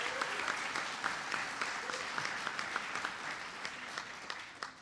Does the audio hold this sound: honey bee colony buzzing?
no